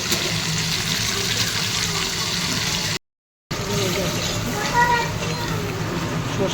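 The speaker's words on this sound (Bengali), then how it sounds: "সর্ষেটা ধুয়ে" Mustard seeds being rinsed in water, a steady close splashing and trickling of water that runs on without a break, interrupted by one short silent gap midway.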